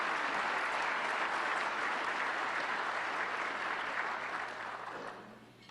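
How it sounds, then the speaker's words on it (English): A crowd at an awards event gives sustained applause for the keynote speaker, full and even for several seconds before tapering off at the end. "let's have a round of applause."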